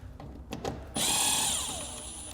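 A power tool whirs up and runs steadily, removing 7mm bolts on a 2023 Ford during a base plate installation, preceded by a few light clicks and taps, fairly close and with no talking.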